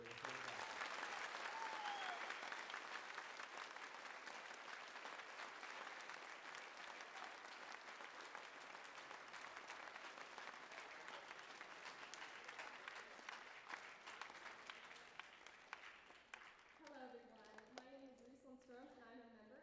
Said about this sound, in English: please join me in giving a rousing round of applause to our veterans